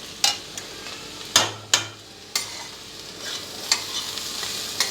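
Sliced carrots being stirred in a frying pan for a carrot and fresh coconut fry, with a soft steady sizzle under several sharp scraping stir strokes from close by.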